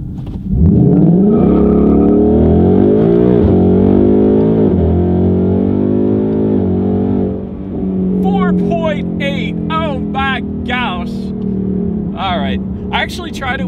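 A 2019 Ford Mustang GT launches in a 0 to 60 run, its loud engine note climbing through rising gear pulls with brief drops at the shifts. Voices and excited chatter come in over the engine near the end.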